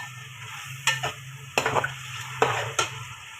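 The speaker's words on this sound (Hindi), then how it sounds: "दही मेरे पास 3 चम्मच रखी हुई है, इसके अंदर ऐड कर देंगे और इसको भी हमने अच्छी तरह भून देना" Yogurt and green chillies stir-fried for jungli pulao, a soft steady sizzle broken by four sharp scrapes and clinks of a spoon against the pan, close and without talk.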